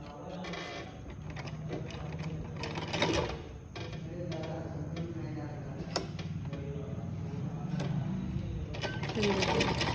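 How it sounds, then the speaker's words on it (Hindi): A sewing machine stitches a blouse sleeve in a steady, continuous whirring run with brief ticking pauses and a sharp click, while a person talks over it throughout. "इसको अब ऊपर से सिल देते हैं।"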